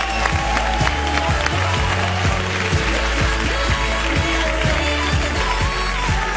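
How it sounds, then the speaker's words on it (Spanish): A studio audience applauds as the guest Nuel Galán walks on, dense continuous clapping that stays loud and even throughout, with no voices over it. "Un aplauso para él."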